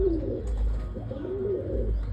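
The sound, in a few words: pigeon cooing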